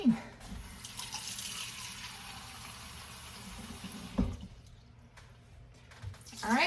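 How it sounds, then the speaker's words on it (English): A cup of water is poured into an Instant Pot while cooking sweet potatoes, giving a steady splashing fill that runs for several seconds under light background noise. "I'm going to add about a cup of water to that, and then we'll go ahead and get it cooking."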